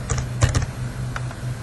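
Fingers tap a computer keyboard in a quick irregular burst of clicks, close and clear over a low steady hum, with no voices.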